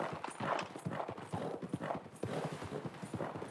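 Horse hooves clip-clop in a rapid, even rhythm throughout, a steady close trot in a western-themed video game with no voices over it.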